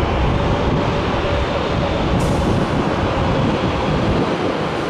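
Steady wind blows at an airport plane spotting area, a loud continuous roar buffeting the microphone without letup and with no talk.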